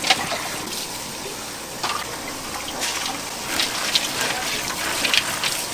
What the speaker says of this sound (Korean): 흐르는 물에 씻습니다.